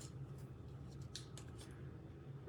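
Scissors snipping through a strip of paper card at a craft table, a few quiet crisp cuts in a short cluster, faint and close with no talking.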